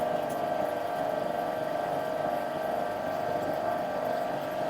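Ice machine compressor running steadily on the Focusun factory floor, a continuous droning hum with a strong tonal band, close and even throughout with no talk.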